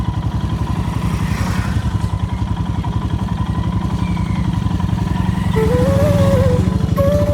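A motorcycle rides along a rough, broken road, its engine running steadily and loud throughout with a rumbling, clattering beat; partway through, a high whining tone comes in over the engine.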